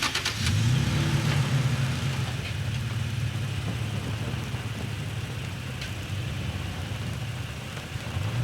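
A stuck truck's engine drones loud and steady as it is pulled out from the front, with a rise in revs near the start and a sustained low rumble throughout.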